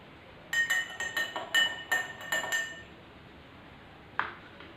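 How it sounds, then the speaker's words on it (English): Salt being stirred into a glass of water, heard as a quick run of about eight bright glassy clinks and taps over two seconds, then a pause and one last clink, close and fairly quiet. "And now I am going to add some salt in this water."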